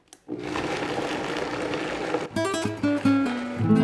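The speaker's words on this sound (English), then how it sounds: "Then put the top on the blender and make a kind of coarse puree out of it." A Vitamix blender whirs steadily while pureeing chipotle salsa to a coarse texture, a loud continuous drone that shifts pitch in steps toward the end.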